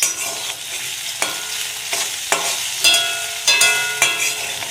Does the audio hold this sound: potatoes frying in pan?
yes